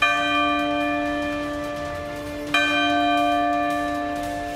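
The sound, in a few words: bells ringing in parliament before a vote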